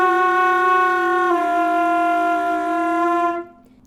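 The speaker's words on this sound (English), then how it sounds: "sing while you're blowing air into the flute" A flute tone with a hummed voice sounding through it, giving a buzzy, doubled quality; held notes step down once before stopping.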